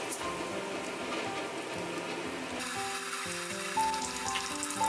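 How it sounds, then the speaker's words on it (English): Starch-coated smelt deep fry in oil at 170 °C, a dense, even crackling sizzle held close for the whole stretch, with soft music tones layered over it. "Deep fry with about 170 degrees Celsius oil."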